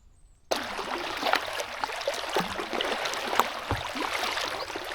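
A paddle dips and strokes through the calm water of the Grand Union Canal. After a brief quiet start, close splashes and swirling trickles run continuously with small irregular knocks.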